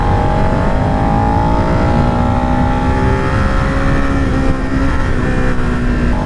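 A 2017 Suzuki SV650 motorcycle engine pulling hard under acceleration, a loud, continuous, close engine drone with the pitch climbing steadily through the gear, wind rush mixed in.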